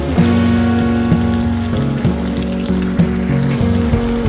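Boiled chana dal and prawns being stir-fried in a pan for a cucumber prawn curry, a steady dense sizzle with soft rhythmic stirring scrapes throughout.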